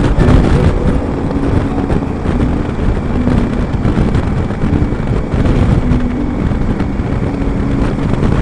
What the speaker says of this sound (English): This, it's quite windy